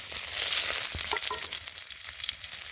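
Onion and garlic frying in hot oil in a home kitchen pan, a steady close hiss of sizzling with a few brief scrapes and stirring clinks, no talking.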